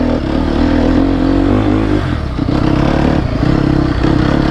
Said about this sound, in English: That Akrapovic exhaust gives it a good sound.